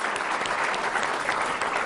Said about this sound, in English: let's once more give them an applause